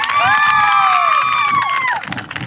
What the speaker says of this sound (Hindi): एक बार अपने लिए जोरदार तालियां बजाइए